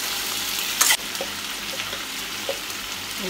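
Capsicum and onions sizzle in a hot pan, a steady frying hiss with a brief louder crackle near the start as the peppers go in, a few soft pops afterward, no voices.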